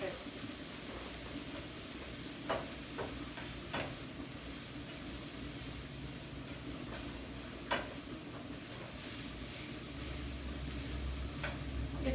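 Onions for spaghetti sauce frying in a pan, a steady soft sizzle throughout with a few faint clicks, and quiet talk nearby.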